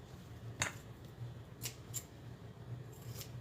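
Scissors trimming fabric for sewing, a few faint, sparse snips spread over quiet background hum, close but soft.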